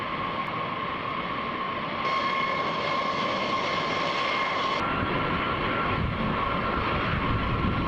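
Steady, loud engine roar of B-52 bomber aircraft at Barksdale, a continuous broadband drone with a shift in tone partway through, no talk over it.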